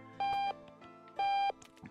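Two loud, steady electronic beeps from an alarm clock in the video game Octodad: Dadliest Catch, each lasting about a third of a second and separated by a short gap, over a quiet game background.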